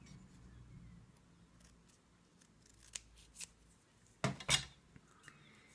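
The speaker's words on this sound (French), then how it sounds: "on va le couper en deux" Scissors snip a paper card in half during greeting-card crafting, a couple of sharp close cuts, the second pair louder, over a quiet room.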